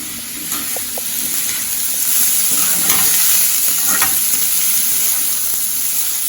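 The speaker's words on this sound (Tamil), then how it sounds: "கொஞ்சம் அந்த வெங்காயம் வதங்குற வரைக்கும் உப்பு." Onions sauté loudly in a hot pan for a potato masala served with rava poori, a steady close sizzle and hiss with faint scraping of a spoon being stirred, and no voices.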